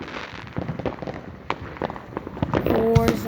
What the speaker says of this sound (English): They're doing fireworks over there too.